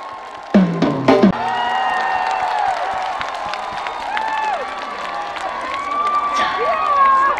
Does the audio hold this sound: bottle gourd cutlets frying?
no